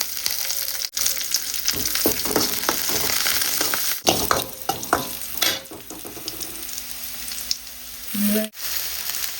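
Onions and mustard seeds fry in hot oil with a bright, continuous sizzle and crackle, while a spoon stirs and scrapes the pan in uneven strokes up close.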